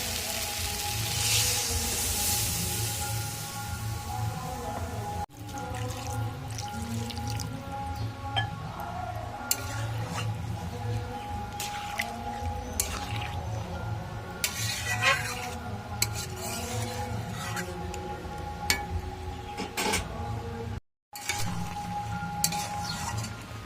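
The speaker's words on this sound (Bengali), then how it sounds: "এবার আমি দিয়ে দেবো এর মধ্যে জল।" Spiced vegetable curry of drumstick stalks with mustard, ginger and cumin stirred in a pan after water is added, a steady sizzle and bubbling with repeated spoon scrapes and clinks against the pan throughout, no talk.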